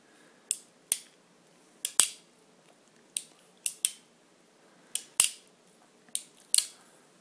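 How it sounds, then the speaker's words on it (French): A Colt 1851 Navy black powder revolver in .44 caliber is cocked repeatedly, giving a series of sharp, close mechanical clicks, often in quick pairs, separated by short silences. "il n'y a plus qu'à armer et à tirer. Fait un joli petit bruit quand même."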